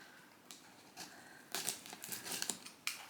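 An Illumicrate subscription box parcel is opened, with plastic and paper packaging crinkling and rustling in short bursts close by, growing busier toward the end, with no speech.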